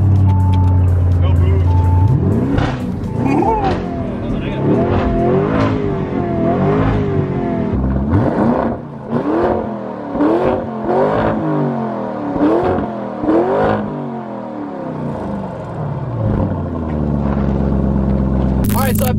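A Lamborghini Urus engine revs repeatedly in short, rising bursts, loud and close, with people talking and exclaiming over the engine noise.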